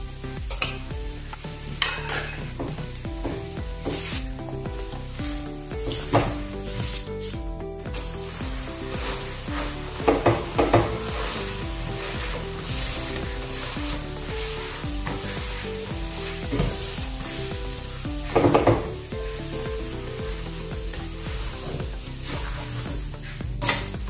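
A breakfast cake roasts in a little oil on a pan with a steady, close sizzle and occasional louder scraping stirs, over faint background music and without speech.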